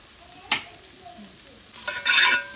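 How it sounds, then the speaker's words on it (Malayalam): Beans, carrot and capsicum stir-fried for vegetable fried rice, quiet sizzle punctuated by a short scrape near the start and a louder burst of stirring and hissing toward the end. "ഇനി നല്ലപോലെ ഒന്ന് ഇളക്കി കൊടുക്കണം."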